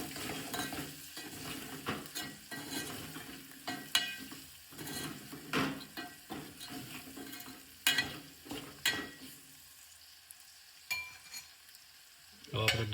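Spiced brinjal curry with turmeric, salt and coriander-cumin powder is stirred in a frying pan, with repeated scraping strokes of a spoon over a sizzling base, loud and close, easing off toward the end.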